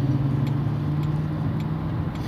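Steady engine hum and road noise from inside a car driving through slow city traffic on a 45 mph road, close and continuous with no talk.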